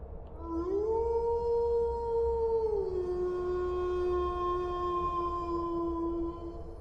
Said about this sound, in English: it just kept repeating the howl it was making